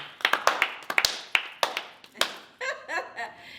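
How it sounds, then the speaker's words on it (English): A few people in a small podcast room clap in scattered, sharp, close claps, then laughter and chatter take over near the end. "let's clap it up"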